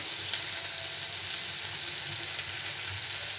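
Fried spice masala is added to dried lotta fish in a hot pan and sizzles with a steady, close frying hiss. A few faint stirring scrapes sit underneath it.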